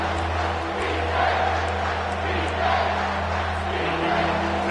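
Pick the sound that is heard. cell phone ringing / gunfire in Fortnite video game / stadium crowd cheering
stadium crowd cheering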